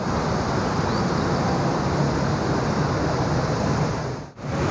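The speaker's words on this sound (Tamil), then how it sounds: "ஸோ இங்கே ஒரு வாட்டர் ஃபால்ஸ் கொட்டிகிட்ருக்கு." Waterfalls pouring at Hogenakkal, several falls joining together, make a steady, loud roar of rushing water that fills the whole clip, with a brief dip near the end.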